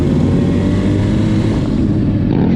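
A loud, steady car engine rumble at a car meet in Margate, with deep low-end growl, continuous throughout with no talking.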